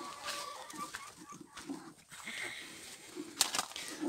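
Faint clucking and scattered calls from a flock of about 100 free-range hens on a farm, soft and distant, with a sharper squawk near the end and light background rustle.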